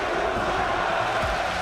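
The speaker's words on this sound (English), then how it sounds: "And here, once again, there is the crowd behind me." Large esports arena crowd roaring and cheering at the 2015 League of Legends World Championship semifinal between Fnatic and KOO Tigers in Brussels, a steady dense wash of voices with no break.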